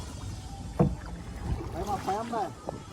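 Paddling a kayak on the Rezu river near Cox's Bazar, with soft paddle splashes and water movement over light wind noise, and a voice chatting nearby.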